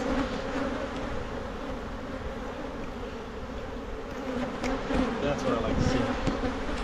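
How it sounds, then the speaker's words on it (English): Honey bees buzz in a dense, continuous drone during a fall hive inspection, close and steady throughout with a few brief handling knocks. "these bees ain't bad right now"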